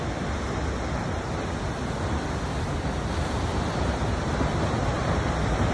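Huka Falls in New Zealand roars as a continuous broadband rush of churning water, steady and loud throughout with no voices.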